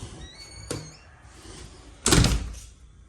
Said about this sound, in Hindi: तो चलो दरवाज़ा बंद कर देते हैं,